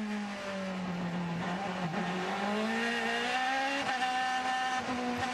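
IndyCar race cars at the 2011 Honda Indy Toronto street race roar steadily, engine notes rising as they accelerate, with a continuous loud drone of several cars close by and no break in the noise.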